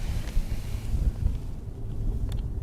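Wind gusts outdoors buffet the microphone with low, rumbling bursts around an e-bike charging setup, loud and close, easing slightly toward the end with no one speaking.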